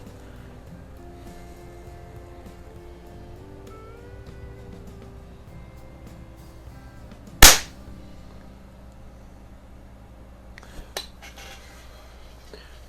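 An El Gamo model 126 Super Match air rifle fires one sharp, loud crack in a quiet indoor setting, followed a few seconds later by faint light clicks and handling noise.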